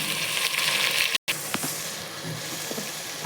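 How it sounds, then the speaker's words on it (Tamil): Chopped tomatoes go into onions browning in hot oil and ghee, giving a steady close sizzle and frying hiss with a brief drop and a few faint stirring clicks. "தக்காளி போட்டுங்க."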